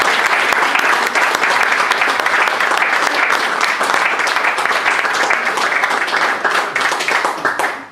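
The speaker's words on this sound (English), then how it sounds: "a hearty round of applause." Hearty round of applause from a club audience and guests after a youth leadership presentation, dense steady clapping throughout, loud and close, tapering off at the very end.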